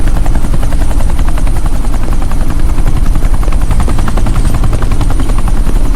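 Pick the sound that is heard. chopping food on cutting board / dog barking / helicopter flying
helicopter flying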